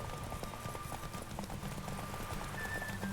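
Horse galloping in The Witcher 3: Wild Hunt, a steady quick clip-clop of hooves under game music and ambience, faint overall.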